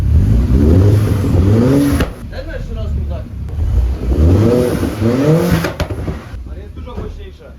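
A turbocharged Seat Cupra Copa Edition engine, tuned to over 400 hp, revs loudly and repeatedly, rising and falling in pitch up close, with someone speaking briefly over it.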